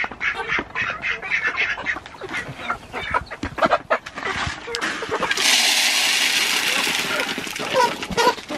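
Chickens clucking and calling while they forage on grass around scattered feed, with ducks nearby. The busy, close bird calls fade into a steady rushing noise partway through, and a voice may be faintly present.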